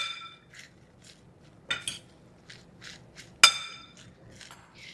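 Salad with radish and no-salt seasoning being tossed in a bowl, giving a few scattered light clinks and scrapes of utensils against the bowl, with two sharper knocks standing out, fairly quiet and without talk.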